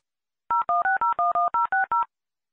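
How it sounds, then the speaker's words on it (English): A telephone number is dialed on a keypad, nine crisp DTMF tones beeping in quick, even succession, clear and alone with no talking. "John dials Mary's number."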